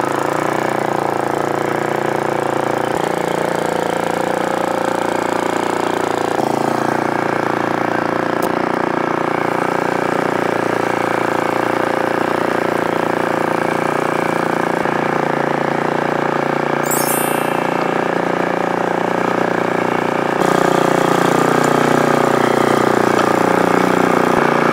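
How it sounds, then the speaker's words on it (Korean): A 6.5 hp four-stroke dual-shaft cultivator engine runs continuously up close, a steady buzzing drone that rises slightly in pitch and loudness near the end, with no voices. "지금 포사이클이라서 시동 걸기가 굉장히 용이합니다"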